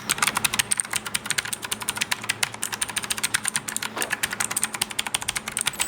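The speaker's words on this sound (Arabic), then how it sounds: "وده الصوت بتاع السويتشات بتاعتها" Fast typing on a mechanical gaming keyboard with blue switches, sharp clicky keystrokes in quick irregular bursts, close and loud with no talking.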